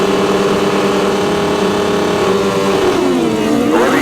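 Engines of racing machines on a grasstrack circuit rev hard at a race start, with a loud, sustained buzzing roar of several motors. The pitch climbs and sweeps near the end as they accelerate away.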